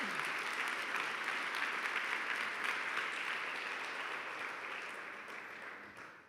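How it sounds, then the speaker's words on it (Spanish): A church congregation applauds in a steady, even wash of clapping that sounds somewhat distant and gradually fades toward the end. "Dale un aplauso al Señor porque Él es bueno."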